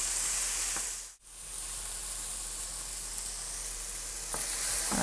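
Ingredients caramelizing in a pan give off a loud, continuous close sizzle, broken once by a short dip as they are stirred, with faint scraping ticks.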